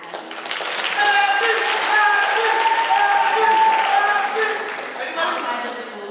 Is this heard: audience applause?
yes